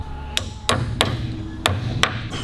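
A hammer strikes the lock cap on the king pin of a 1937 Buick Model 41, five sharp metallic blows spaced unevenly over a low background hum in a workshop.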